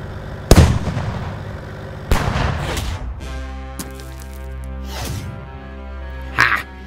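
Toy tank cannons fire armor-piercing rounds at a tank in a G.I. Joe battle. Several sharp booming blasts come at irregular intervals, each followed by a ringing decay.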